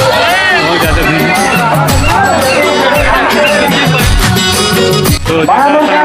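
Dense crowd hubbub and babble of many voices around a hilltop temple on Dalha Pahad, loud and continuous throughout, with overlapping chatter close by.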